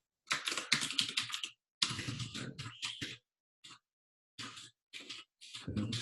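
Rapid clattering keystrokes on a computer keyboard while code is typed, coming in dense bursts separated by short pauses, close and fairly quiet, with no speech.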